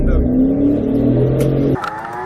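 A black BMW speeds off while fleeing police, its engine revving hard and close with a rising tone and a brief tire sound, then cutting to a different, quieter scene near the end.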